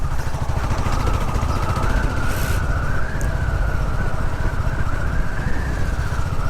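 A Royal Enfield 350 Classic motorcycle thumps along at a steady cruise, its low engine beat constant under heavy wind rush throughout.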